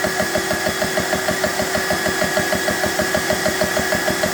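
A BSA PCP air compressor runs steadily close by, its piston pumping in a fast, even rhythmic thud over a constant motor hum, with no speech.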